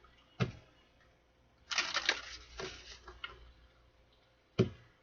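A deck of cards is shuffled close by with a quiet riffle of rapid, papery flutters, bracketed by a couple of sharp taps of the cards against a surface.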